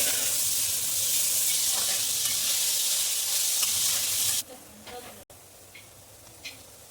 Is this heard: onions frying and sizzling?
yes